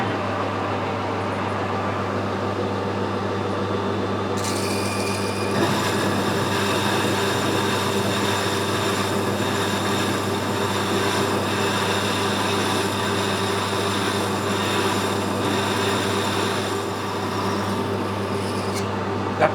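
A metal lathe turning a taper by the offset tailstock method at a higher spindle speed, giving a loud continuous mechanical drone with a steady whine throughout, no talking.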